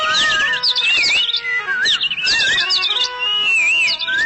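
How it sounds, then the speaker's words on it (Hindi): Birds in trees chirp and whistle continuously, with bright, warbling calls overlapping one another close by, dense and lively with no speech. "और इन पेड़ों पर चहकने वाले पंछी"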